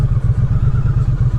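A 2017 Triumph Street Cup motorcycle engine chugs close by with a loud, rapid, uneven low pulsing throb that keeps going throughout.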